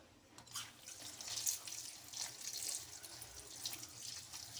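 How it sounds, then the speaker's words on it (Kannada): Tap water runs steadily into a sink while drumstick leaves are rinsed, a soft, continuous trickle and splash heard close by, with no talking. "ನೀರು ಬಿಟ್ಕೊಂಡ್ಬಿಟ್ಟು ಚೆನ್ನಾಗಿ ಒಂದು 2-3 ಸತಿ ಅದರಲ್ಲಿರೋ ಧೂಳೆಲ್ಲ ಹೋಗೋ ಥರ ನೀಟಾಗಿ ತೊಳ್ಕೊಳ್ಳೋಣ"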